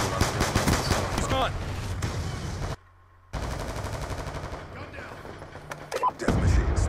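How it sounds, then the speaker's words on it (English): Heavy sustained fire from the Death Machine minigun in Black Ops 2, a loud, continuous rattle that cuts out briefly and resumes, mixed with other battle noise and a brief voice. "Death machine spinning up"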